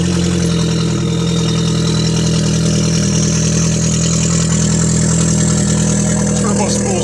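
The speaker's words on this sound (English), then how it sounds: "Turbo spools at idle." A tuned 2020-era VW Passat 1.8T with aftermarket intake and exhaust idles loud and steady with a deep drone, while a faint rising turbo whistle creeps in over it.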